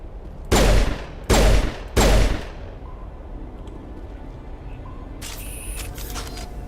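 Enemy gunfire in Mass Effect Legendary Edition, three loud, close bursts of rapid shots in quick succession, then a quieter stretch with faint game sounds and a brief electronic tone.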